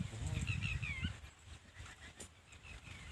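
A village farm dog gives a few high, wavering whimpers and whines close by in the first second, then falls quiet while someone talks softly in the background.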